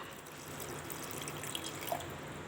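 Water is poured into a mixer-grinder jar over ground ingredients, giving a soft, steady trickle with a faint splash near the end. It is quiet and close, with no talking.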